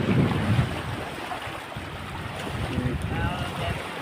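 Strong wind gusting over a lake, roaring steadily and buffeting the microphone, with lapping water and a faint voice somewhere in the background.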